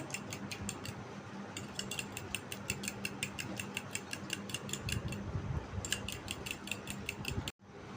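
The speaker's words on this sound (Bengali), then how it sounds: "ডিমটা এখন আমি ফিটিয়ে নিব ভালোভাবে" An egg beaten in a bowl: fast, even, rhythmic clicking of the whisking strokes, close and steady for about seven seconds with one short pause, then stopping abruptly.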